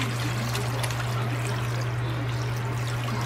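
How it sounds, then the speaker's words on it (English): Broth pours steadily into an Instant Pot, a continuous close liquid stream over a constant low electrical hum, with no talking. "the rest of the broth we pour on top of this"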